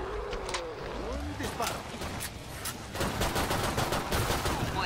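Rapid bursts of gunfire in the video game Killing Floor 2 crackle through the scene, with scattered shots early and a denser volley near the end, under faint voices.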